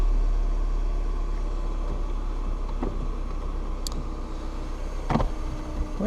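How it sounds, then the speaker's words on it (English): Electric power windows on a 2012 Mini Soho Edition whir in a low motor drone over a faint idling hum, with a couple of brief clunks and a sharp click near the end. "Windows work."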